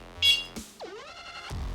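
Short electronic beeps and a buzz from a Sonik Gizmo alarm gadget, separate tones and a rough buzz in quick succession, fairly faint and close.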